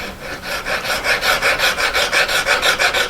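A hand file works the claws of a metal ring head in quick, even back-and-forth rasping strokes, about a dozen in a row, close and loud with no talking.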